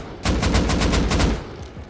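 An AK rifle fires a tight burst of loud, close shots in Rust Console Edition, about a second of rapid cracks after a brief quiet start, then a short fading tail.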